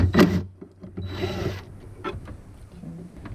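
Mechanical ratcheting and metallic clicking from bolts being undone on a 1992 Yamaha WaveRunner WR500 personal watercraft, with a sharp burst at the start and then scattered, fainter taps and scrapes.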